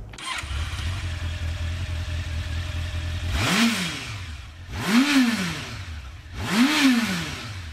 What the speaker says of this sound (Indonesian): Nah kalau ini adalah bunyi dari CB1000 yang 1992 Big One pertama